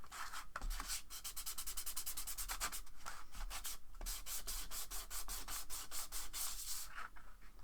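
A large marble-style model base is smoothed with rapid, rhythmic close-up rubbing strokes, a steady sanding scratch that pauses briefly between passes, heard alone without talk.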